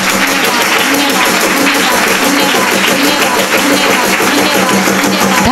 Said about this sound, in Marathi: जोरदार टाळ्या वाजवा, प्रभूला धन्यवाद द्या.